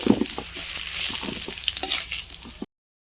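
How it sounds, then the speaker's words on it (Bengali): Potatoes frying in a pan sizzle and crackle steadily with broadband hiss and small pops throughout, stirred occasionally, close and moderately loud, with no talk. "আলুগুলো বেশ সুন্দর করে ভাজা হয়ে গেছে,"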